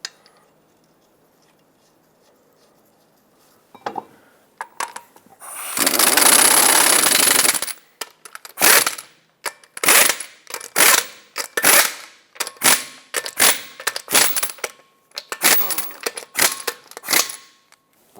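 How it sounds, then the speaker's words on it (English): Lug nuts are run onto a 2014-2021 Mazda 6 wheel hub: a long burst of an impact or ratchet tool, then a series of short clicking ratchet strokes in quick bursts, close and clear, without speech. "Install all 5 of your lug nuts. Bottom them out in a cross pattern"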